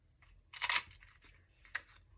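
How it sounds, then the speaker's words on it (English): A heart-shaped paper punch snaps through paper, giving a sharp crunching clack followed by a second, shorter click a moment later, close and fairly quiet with no voices. "I have this heart punch."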